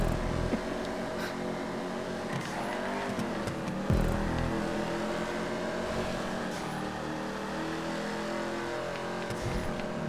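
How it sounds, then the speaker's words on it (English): Engine noise from a Corvette in a racing video game, a sustained steady drone with shifting tones and a brief downshift burst near the middle, played loud and continuous with no talking. "Oh, the downshift sound."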